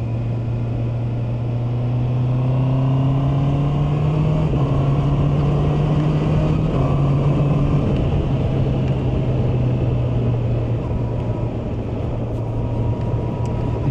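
A 2024 Honda CB650R E-Clutch's 16-valve double-overhead-cam inline-four drones steadily while riding, a smooth, close engine note with gentle pitch rises and shifts, mixed with continuous wind rush and no talking.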